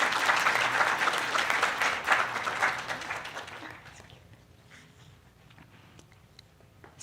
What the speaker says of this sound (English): Let's give an extra round of applause for the artists that are here today.